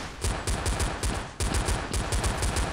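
Rapid bursts of automatic gunfire in the video game Blood Strike, loud and close, crackling in quick repeated volleys with a brief pause midway.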